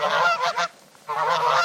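Two loud, nasal goose honks ring out close and clear, each a short burst of repeated calls separated by a brief pause.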